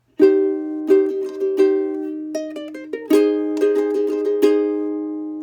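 A ukulele chord rings out, strummed several times with a short melodic run of single notes in between, clear and close.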